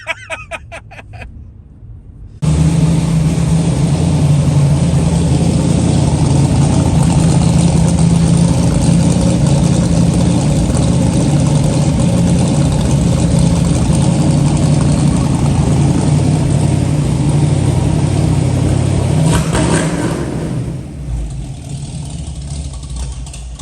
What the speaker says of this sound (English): This is a 400 two-stroke Polaris project.